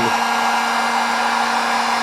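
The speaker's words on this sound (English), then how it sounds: "the way I do is I use just a heat gun" Steady, loud blowing roar of a heat gun on low running continuously at close range over a 3D print to shrivel stringing wisps, with a constant motor hum underneath.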